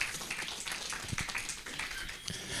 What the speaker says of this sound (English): Once more again, ladies and gentlemen, let's just give you a round of applause.